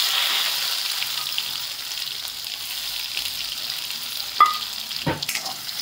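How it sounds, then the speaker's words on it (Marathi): Crushed garlic and cumin seeds sizzle steadily in hot oil in a pan, a continuous close crackle with a couple of sharper spits and stirring knocks near the end. "आणि ठेचलेला लसूण टाकते बरं।"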